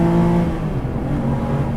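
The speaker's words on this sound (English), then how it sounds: "Wow, it revs up easily. Downshifts are fun." A Guntherwerks 400R Porsche engine revs up on a downshift, a loud, close, throaty drone with a rising tone that settles into a steady rumble.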